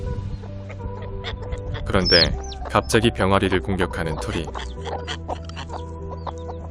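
Mother hens cluck excitedly near chicks being attacked by another bird, a burst of loud, close, rapid clucks in the middle, with a narrating voice over the farmyard sounds.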